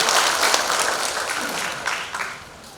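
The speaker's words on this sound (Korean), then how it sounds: "우리 위원장님들 있어 뜨거운 박수 부탁드립니다." Audience applause for committee chairs at a Democratic Party presidential election rally in Jungnang, a lively burst of many hands clapping that starts strong and gradually thins out, with a few louder claps near the end.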